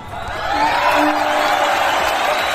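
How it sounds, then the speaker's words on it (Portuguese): A crowd cheers and whoops over steady applause at a domino tournament in Brazil, a dense, continuous roar of many people that holds loud for the whole stretch. "os aplausos vazaram"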